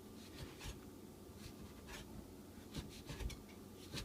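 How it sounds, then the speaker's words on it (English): A knife chops flatbread into strips on a board for a pita and egg dish, giving a run of short, close, irregular cutting taps and scrapes at a low level with no talking. "We'll chop them into also strings"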